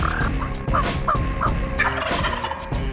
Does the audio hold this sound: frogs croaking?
no